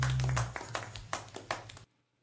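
A handful of distinct hand claps from a person or two, fairly quiet and close, spaced irregularly after a brief sustained tone, ending in silence.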